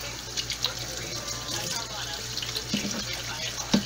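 Running water rinses handmade cold-process daisy soap lather off skin at a sink, a steady close splash and trickle with a few brief louder splashes and a low hum underneath.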